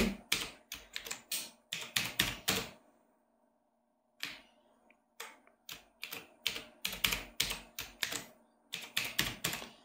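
Typing on a computer keyboard while entering a password into a login form, rapid close bursts of key clicks with a short pause midway, then resuming in quick clattering runs.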